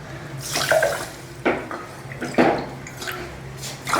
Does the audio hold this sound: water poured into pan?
yes